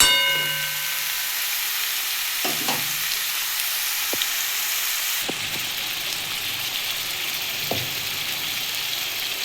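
Ridge gourd stirred in a hot pan for a Bengali jhinge bora curry, with a steady broadband sizzle of frying throughout and a few sharp spatula scrapes and clinks against the pan, close and alone.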